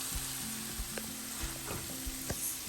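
Chopped ingredients frying in a pan for bread upma, a quiet steady sizzle with a run of light spatula taps and scrapes, close and unhurried, with no speech.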